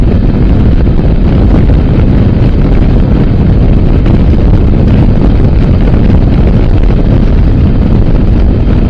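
Strong wind in the Western Ghats roars steadily and loudly against the microphone, a continuous low buffeting rumble with no pauses.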